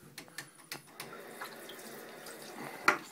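Water runs from a tap to fill a small test vial for a water test, a soft steady trickle with light clinks and handling noises throughout and one sharp knock near the end.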